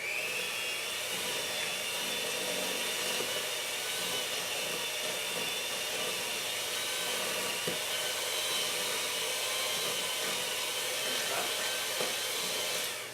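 Electric hand mixer whirring through cake batter with butter, milk and vanilla, a steady, moderately faint motor whine running continuously for over ten seconds with no talking.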